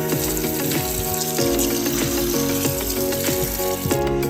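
Tap water runs steadily into a pot in a home kitchen, a continuous close gushing stream with faint clinks of the pot throughout and no voices.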